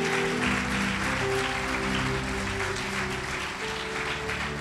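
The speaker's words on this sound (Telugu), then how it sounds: "చప్పట్లు కొట్టమన్నప్పుడు చప్పట్లు కొట్టాలి." A church congregation claps together during a sermon, a steady wash of applause from many hands in a large room, with a sustained tone or music running beneath it.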